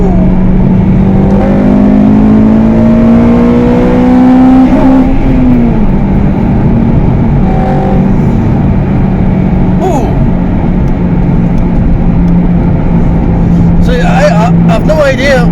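A Honda car revs and accelerates, engine pitch climbing steadily and then dropping, loud and close, with a person talking over the engine noise.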